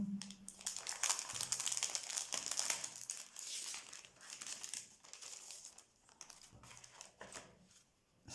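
Crinkling wrapping paper as a surprise box is opened: soft rustles and crackles, busiest early and then in sparser bursts, close but quiet.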